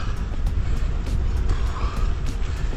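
Car passing on a road, heard as a continuous loud low rumble of engine and tyre noise with broadband wind roar and a few brief clicks, no talking.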